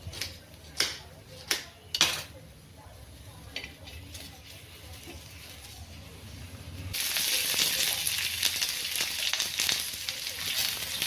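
Coconut and onion roasting in a little oil in a pan, a few sharp knocks first, then a faint crackle that swells into a loud, bright sizzle for the last few seconds.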